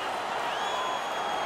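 An arena crowd in the NHL 19 hockey video game roars steadily, a dense, sustained wash of cheering and applause with no pauses.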